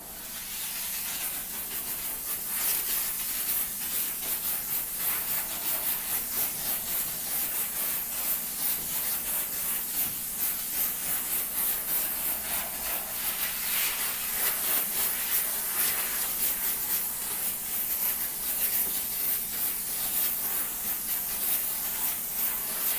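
A Chief Steamer 125 PSI machine sprays steam mixed with Optimum No Rinse onto a salt-covered car hood, a loud, steady hiss running continuously for over twenty seconds with slight fluctuations and no talking.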